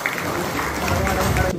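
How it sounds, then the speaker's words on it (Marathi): Crowd applause for an honoree at a memorial birth-anniversary ceremony in Palus, steady dense clapping throughout, fairly close and continuous. "त्यांच्यासाठी प्रचंड टाळ्या पाहिजेत."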